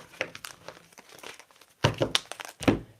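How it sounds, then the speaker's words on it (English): Crisp papery riffling and crinkling in short bursts, with two louder flicks near the end, like cards being shuffled up close. "Why can't I shuffle this deck today?"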